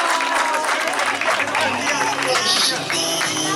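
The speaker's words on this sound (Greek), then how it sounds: "πολλά μεγάλο χειροκρότημα" Crowd applauding a runner at a trail race finish in a village near Ioannina, steady clapping mixed with crowd noise and chatter, with a voice over a loudspeaker.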